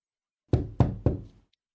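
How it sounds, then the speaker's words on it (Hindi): Three firm knocks on a door at night in a horror story, evenly spaced and close, then silence. "कुछ घंटे बाद मेरी नींद दरवाजे पर हुई एक दस्तक से टूटी।"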